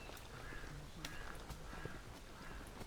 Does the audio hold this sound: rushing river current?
no